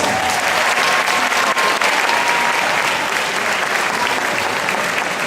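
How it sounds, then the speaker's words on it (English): Sustained applause from a school audience at a secondary school presentation, steady and dense clapping that fills the whole stretch without a break. "A round of applause."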